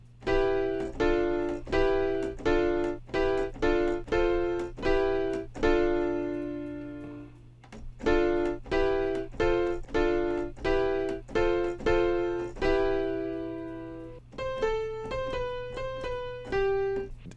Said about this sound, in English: if I was to play it on the keys, it would sound like this